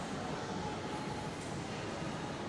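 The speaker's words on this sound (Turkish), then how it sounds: "Bir tren gezmiş. Oyuncak tren." A toy train runs through a large shopping mall in Karabük, giving a steady, continuous rumble with a hollow, echoing roar throughout and no voices.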